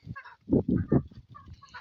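Several close, loud honks and gabbling calls from geese in quick succession, with short pauses between bursts.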